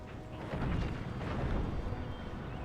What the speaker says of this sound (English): I think they're about to fire, so we can wait just until after the guns are fired